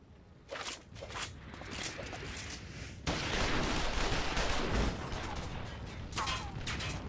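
Soldiers' gunfire in Final Fantasy XIV crackles in bursts of rapid shots, then swells into a denser, louder volley midway, with footsteps and mechanical clatter mixed in.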